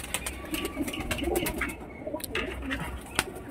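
Several pigeons coo together in murmuring rolls on a rooftop railing, with a few sharp clicks and scrapes nearby.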